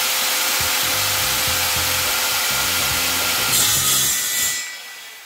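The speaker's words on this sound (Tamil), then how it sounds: "இதை வந்து நீங்கள் சா வச்சு தான் கட் பண்ணணும், அதாவது ரம்பம்." A hand saw cuts through wooden pillars being made into steps for a Golu display, close and loud. Rhythmic back-and-forth rasping strokes run for several seconds, then fade out at the end, with no talking.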